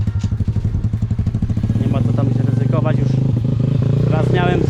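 A motocross pit bike rides a dirt track, its small engine revving loudly and steadily with clattering knocks from the suspension over bumps, close and continuous throughout.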